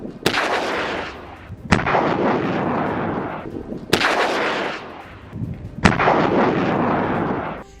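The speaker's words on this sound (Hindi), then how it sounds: "उसने यहां पर हैवी मोटर गोलों से हमला किया है" Heavy mortar shells and rockets fire in a war zone in Gaza, four loud sharp blasts roughly two seconds apart, each trailing into a long rumbling roar, with no talking.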